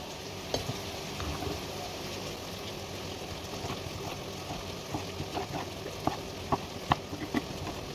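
Eggplant, pepper, onion and tomato frying in a pan, a soft steady sizzle at low level broken by scattered clicks and taps of stirring that grow more frequent toward the end.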